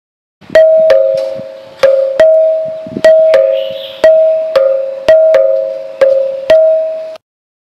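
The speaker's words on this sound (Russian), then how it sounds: "А вот так можно получить звук современного дверного звонка." Paired strikes on a ringing musical stone pillar at Hampi produce a two-note ding-dong pattern repeated several times, close and resonant like a doorbell chime.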